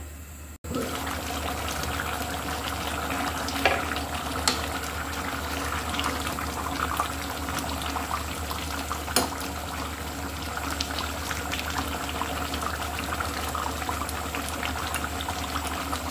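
A curry of dried loitta fish with potato and eggplant simmers on a very low flame, producing a steady soft bubbling hiss that stays even and close throughout with no voices.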